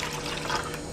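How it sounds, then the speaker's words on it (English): Water is poured into a canteen cup to cook noodles: a brief, steady splashing trickle, close and fairly soft, with no voices. "we got a little bit of water."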